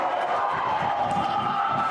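A packed high school gym crowd roars and cheers during a tense moment of a playoff boys basketball game, a continuous mass of voices under the noise of play.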